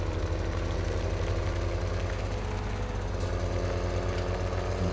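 Tractor engine in Farming Simulator 17 running steadily with a constant low drone and harmonic hum, close and continuous throughout with no talk.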